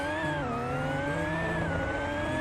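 Supercharged BMW M4 engine revving, a close, steady harmonic drone with a supercharger whine that dips and swells slightly in pitch, no talk over it.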